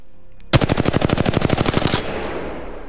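Rapid automatic weapon fire from an Apex Legends tutorial, a loud close burst of about fifteen evenly spaced shots lasting around a second and a half, then a decaying ring-out with no talking.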